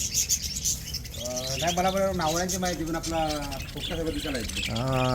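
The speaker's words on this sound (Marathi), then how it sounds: "हे लव बर्ड आहेत ते आत्ता जस्ट आलेले आहेत" A group of lovebirds just brought in from Mumbai and Kolkata chirps and tweets continuously in the background while someone talks over them.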